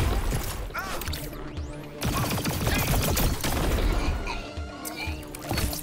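Rapid video-game gunfire from a G3 rifle, with dense, loud bursts of shots crackling almost continuously over a busy, noisy game mix.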